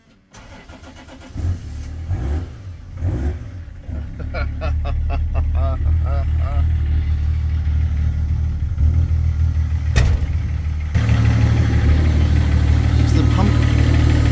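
A 1983 Ford F150 with a converted engine cranks over and starts for the first time, catching with uneven bursts before settling into a steady, loud idle that rises slightly near the end.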